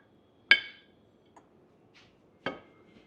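Dishes clinking while tehari is poured onto a plate: two sharp, bright clinks of plate and utensil about two seconds apart, with a faint tap between, close up in a quiet room.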